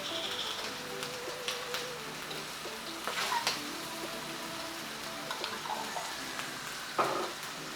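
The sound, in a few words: stir-frying giant shrimp with hoisin in a wok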